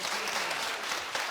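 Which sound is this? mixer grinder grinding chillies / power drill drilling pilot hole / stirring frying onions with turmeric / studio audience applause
studio audience applause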